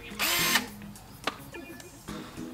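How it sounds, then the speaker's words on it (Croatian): A power drill whirs in a short, loud burst at the start, then gives a quick second blip and fainter bursts, working a screw out of wood, with light clatter between. "Daj meni tu bušilicu."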